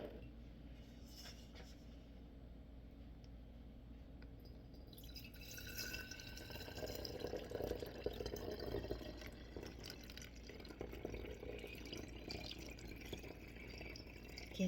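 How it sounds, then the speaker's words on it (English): Acidic fire cider is poured through a funnel into an old glass honey jar. After a quiet start, a soft, continuous liquid trickle with light glassy tones sets in and runs steadily. "Get that poured in through the funnel."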